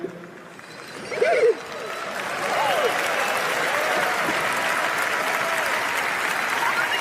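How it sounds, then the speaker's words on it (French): Applause from an audience breaks out and continues steadily as a dense, sustained clapping, with a brief louder burst early on and some faint voices mixed in. "Voilà, les gens ils applaudissent"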